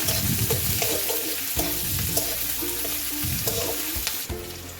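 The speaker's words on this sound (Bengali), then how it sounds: "প্রথমে 5 ফোড়ন দিয়ে দিলাম গরম তেলে, তারপরে কয়েকটা চেরা লঙ্কা, তারপরে পেঁয়াজ" Five-spice, slit chillies and onion hitting hot oil in a pan, a loud, dense, continuous sizzle and crackle up close, with a few scraping stirs and a brief spatter burst near the end.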